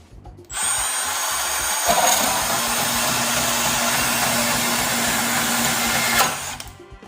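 A Milwaukee M12 Fuel cordless saw cuts through steel threaded rod, a loud, close, steady whirring grind that holds for about six seconds before spinning down, with no talk.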